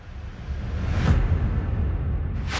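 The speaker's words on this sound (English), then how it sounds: "Whoosh." Whoosh sound effect in a 174 BPM future bass production, heard as a soft airy sweep rising in the middle and another near the end, set over a low rumbling bed, with no voices.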